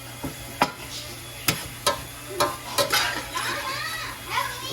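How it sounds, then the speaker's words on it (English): Vegetables sautéing in a pan for a New Year's feast served on rice, with sharp clinks of a utensil stirring against the pan over a steady sizzling hiss, close by. "I have sauteed the other vegetables for a while"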